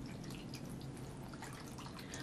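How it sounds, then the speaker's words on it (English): Water is poured into a container for a simple paper-soaking science activity, making a steady, close splashing and trickling stream that runs continuously and quietly with no one speaking. "you take your water and you're going to pour it in your container"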